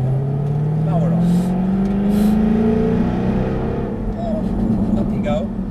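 Jaguar car accelerating under power on a cone-marked driving course, the engine note climbing steadily and strongly up close, with an instructor talking over it.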